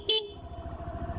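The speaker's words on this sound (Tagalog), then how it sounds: "Then busina." A single short honk from a Suzuki Burgman Street 125 scooter's horn, loud and close, followed by the scooter's engine idling steadily underneath.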